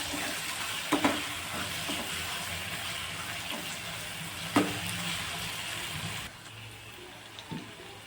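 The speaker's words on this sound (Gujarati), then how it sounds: "ડુંગળીનો કલર ચેન્જ થઈ ગયો છે તો તેમાં આપણે હવે ટમેટા નાખી દઈશું. સરસ રીતે મિક્સ કરી લઈશું." Onion and tomato sizzle in a pan for a Punjabi-style brinjal sabji, an even hiss with a few sharp stirring knocks, and it drops to a quieter simmer near the end.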